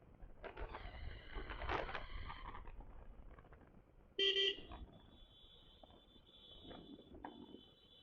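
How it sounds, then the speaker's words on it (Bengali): Road traffic jam in a village in Bangladesh, with motorcycles among the vehicles: a steady rumble of engines and jostling, then one loud, sharp car horn blast that trails off into a fainter sustained horn tone. "এই হলো জ্যাম। ঢাকা শহরের জ্যাম এখন গ্রামেও আসে পড়ছে।"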